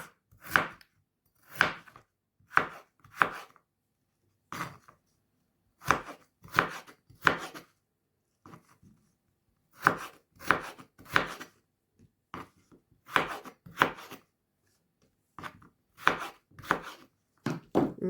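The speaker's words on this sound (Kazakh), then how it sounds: "Картопты соломкаға тураймыз." A knife chops potatoes into thin julienne strips on a board, with crisp close-up cuts in quick bursts of two to four strokes and short pauses between them. No one speaks.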